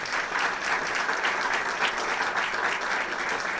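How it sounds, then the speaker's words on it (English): Steady, dense audience applause for a committee at a university ribbon-cutting ceremony for a Black Cultural Center, a continuous wash of many hands clapping at even loudness throughout. "Let's give them a round of applause."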